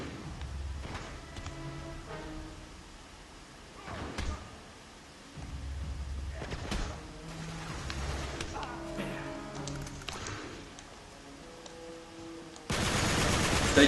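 Gunfire from the video game Uncharted 3 comes in repeated sharp bursts and rapid volleys over tonal game music and effects, ending in a loud, dense stretch of noise.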